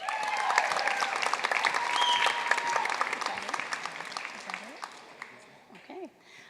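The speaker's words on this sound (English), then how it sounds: "A round of applause again for our Manship School's newest graduates." An audience applauds graduates of a mass communication school at a graduation ceremony with steady, dense clapping and a few cheers. The applause thins toward the end as a voice begins to speak.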